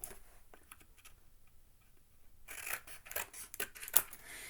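Scissors cutting paper pieces for a canvas craft, with a quiet first half and then a run of close, crisp snips and rustling, one sharp click near the end.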